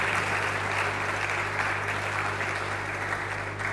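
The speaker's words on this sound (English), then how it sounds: "Please clap for him again." A seated audience at a university microbiology lecture series claps steadily, a continuous wash of applause at even loudness with a low steady hum beneath, no voices over it.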